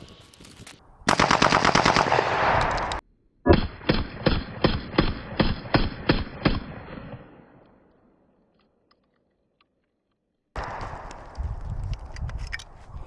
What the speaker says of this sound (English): The one on the left is getting some game load, and the one on the right is gonna get some 1 ounce slugs.